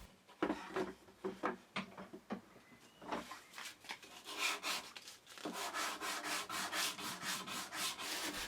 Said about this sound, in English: Before we add the finish, I'm going to give everything a good sanding.